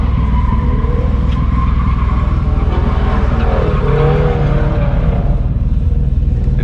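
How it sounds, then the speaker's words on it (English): A car drifting on a public street with its tires skidding and squealing, heard as a loud, continuous, rough roar mixed with engine noise and no voices. "Just another day street drifting with the boys."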